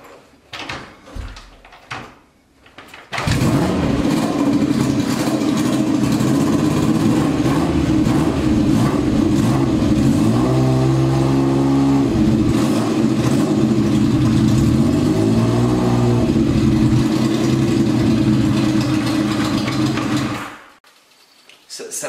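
A motorcycle with a cold engine is kick-started, catching on the first kick and settling into a loud, steady run with throttle blips partway through, preceded by brief handling clatter and ending abruptly.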